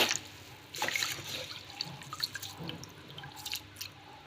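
Water poured over soaking raw rice being rinsed for coconut dosa batter, a quick splash followed by scattered drips, trickles and wet sloshing in a bowl, close and without talk.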